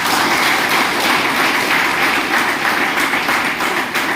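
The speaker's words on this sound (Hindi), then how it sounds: "एक बार जोरदार ताली हो जाए" Loud, sustained applause from an audience at a Safe Shop business meeting in a hall, dense steady clapping filling the whole stretch without a break.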